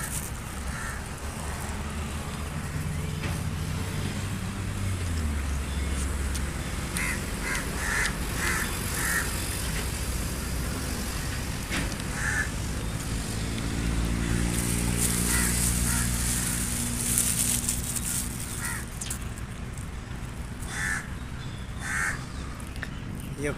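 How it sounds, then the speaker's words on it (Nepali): A crow caws repeatedly outdoors on a warm, overcast day near a strawberry garden, harsh calls recurring over a steady background hum, with a person talking intermittently. "यो काग चाहिँ धेरै कराइरहेको छ।"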